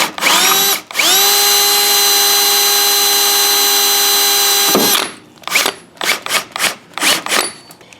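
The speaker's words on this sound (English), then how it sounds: "So I'm just going to go ahead and drill this out." A power drill bores out a suspension plate on a Ford Thunderbird during a front suspension overhaul, a loud high whine running steadily for about four seconds after a brief start, then short bursts of drilling and grinding.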